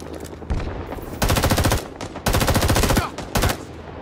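Bursts of automatic rifle fire in the Vietnam War shooter Rising Storm 2: Vietnam, several loud close sustained volleys with brief gaps between them and no talking.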